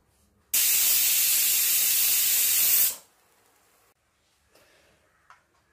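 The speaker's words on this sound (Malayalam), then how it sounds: "രണ്ട് വിസിൽ കേട്ട് കഴിഞ്ഞ് നമ്മൾ ഓഫ് ചെയ്തിട്ടിരുന്നാണ്." A pressure cooker holding jackfruit jam releases steam in one loud, sustained hissing whistle of about two and a half seconds that cuts off sharply, followed by near silence with a few faint knocks.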